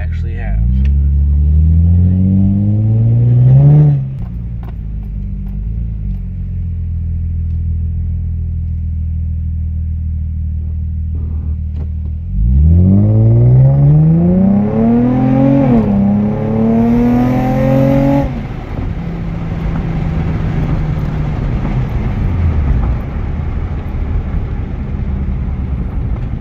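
An Infiniti G35 fitted with an aftermarket exhaust accelerates to about 5,500 RPM. The loud exhaust roar climbs through rising revs in two pulls, then settles back to a steady rumble.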